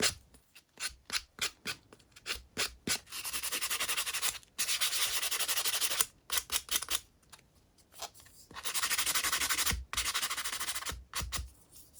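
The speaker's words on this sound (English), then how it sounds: "I'm done with the sanding" Shiny keytags being sanded by hand for a junk journal craft: quick scratchy rubbing strokes in bursts, then longer sustained grinding passages, close and fairly loud with no talking.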